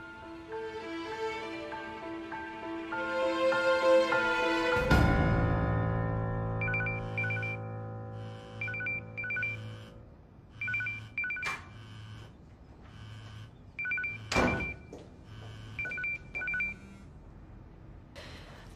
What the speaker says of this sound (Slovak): Telefón Jakuba Jorughana